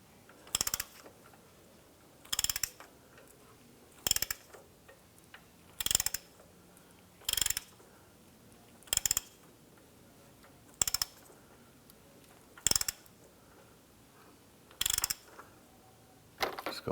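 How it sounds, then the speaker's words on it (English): A hand ratchet turns the crankshaft of a 2001–2005 Honda Civic, nine brisk clicking bursts spaced about every two seconds, each a short close rattle of pawl clicks, with quiet between strokes and no speech. "we're going to go ahead and just use our ratchet. I'm going to go ahead and crank this."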